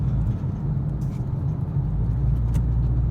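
A car engine drones steadily and loudly from inside the cabin as the driver presses the accelerator during a driving lesson, with no talk over it.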